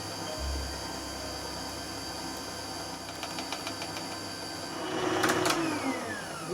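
A kitchen stand mixer running on low while beating cheesecake batter gives a steady motor whir throughout, with faint clinks and a brief louder swell near the end.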